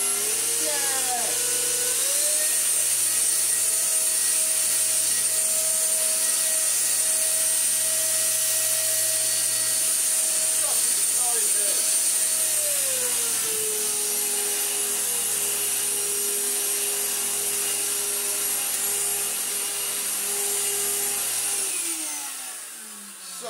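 Restored Vorwerk VK135 vacuum cleaner running on carpet pile, a loud steady whine with a strong high hum that shifts pitch a few times as the head moves, then winds down at the end.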